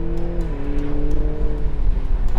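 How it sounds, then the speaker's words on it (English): The 2-litre four-cylinder engine of a BMW Z4 sports car hums steadily nearby, settling to a lower pitch partway through, with no voices over it. "For a 2-litre little 4-pot, I think it sounds like a proper sports car."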